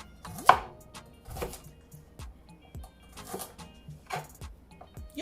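About five garlic cloves are chopped with a knife on a board, a series of crisp, irregular chops alone in a quiet kitchen.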